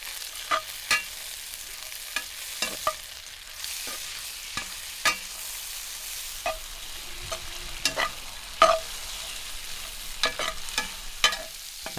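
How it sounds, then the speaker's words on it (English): Dried apricots, cherries and raisins cooking in a pan, heard as a faint background sizzle broken by sharp clicks and scrapes of stirring, spaced irregularly and close by. "Now let's cook the dried fruits."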